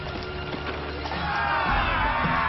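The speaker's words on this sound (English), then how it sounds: "we can see that the crew is cheering for us" A pirate crew cheers aboard the ship Jackdaw in Assassin's Creed 4, a steady rumble of many voices shouting together that swells louder in the second half.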